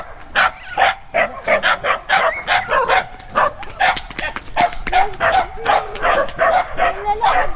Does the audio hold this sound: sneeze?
no